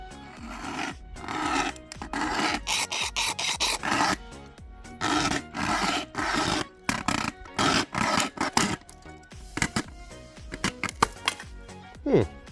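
A small AliExpress survival saw cuts through a thin, dry wooden stick held underfoot, making rapid rhythmic rasping strokes in short bursts, close and fairly loud.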